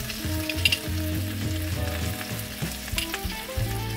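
Onions fry in a pan while a steady sizzle runs underneath, and low tonal tones step through changing pitches over it, plus a few brighter clicks and crackles, with no talking.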